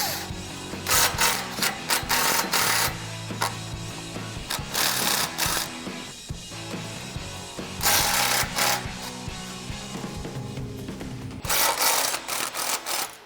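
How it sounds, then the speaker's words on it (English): A 15mm socket on a ratchet loosens the two exhaust H-pipe clamps under a 2011-2014 Mustang GT, giving bursts of rapid ratchet clicking and rasping metal-on-metal turns with short pauses between, close and fairly loud, with no talking. "We've got a 15mm socket. We need to loosen up these 2 clamps right here."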